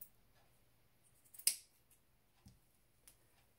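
Scissors snip through yarn while trimming a handmade yarn doll: one crisp, close cut stands out, with a few faint clicks and snips around it in an otherwise quiet room.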